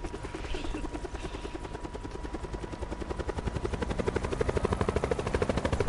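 Helicopter in Call of Duty Blackout, a steady rotor chop that builds into a loud, rhythmic pulsing thrum as it flies, with no talk over it.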